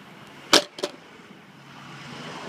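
Skateboard on a flexi deck with small stock Ronin wheels dropped onto pavement: a sharp hard clack followed by a quicker, lighter second knock, then quiet background hum.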